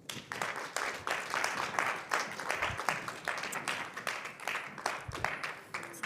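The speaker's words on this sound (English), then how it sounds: "A round of applause for Tammy Robert" Theatre audience applauding, a lively, rhythmic burst of many hands clapping that stays steady throughout, heard from within the hall.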